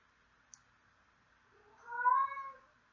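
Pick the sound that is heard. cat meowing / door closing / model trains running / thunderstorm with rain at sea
cat meowing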